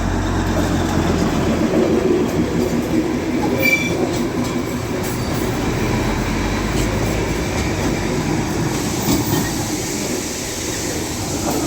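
Train rumbling past at Ghum near Darjeeling, a steady loud roar of wagons and rails close by with faint wheel squeal, continuous for the whole stretch.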